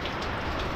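Steady rain at a construction site where a bar counter is being built, a dense, even patter of drops on surfaces with no pauses and no voices, loud and close throughout.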